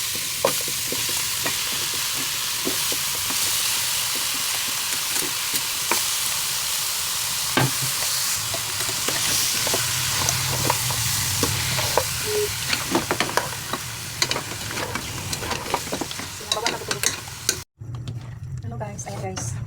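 Pork pieces on the bone go into a hot pot for pork and vegetable soup, giving a continuous sizzle with scattered scraping and clinks while a voice talks over it.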